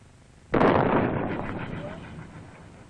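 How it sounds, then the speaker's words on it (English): An RPG-2 rocket launcher firing in a 1967 Vietnam War weapons film: a single sharp, loud blast that rings out and decays slowly over about two seconds. "The PG-2 round in flight."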